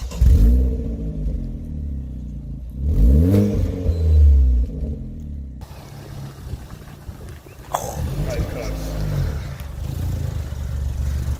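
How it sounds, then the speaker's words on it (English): A tuned car fitted with a pops-and-bangs exhaust map is started warm and revved, giving loud rising engine surges with crackling pops between revs, close by and with no talk. "Just going to show you a start up, but this is on a warm start"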